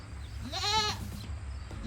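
A single goat bleats once from a farm goat pen, a wavering harmonic cry of about half a second, moderately close, followed by a faint second call starting at the end over quiet outdoor background.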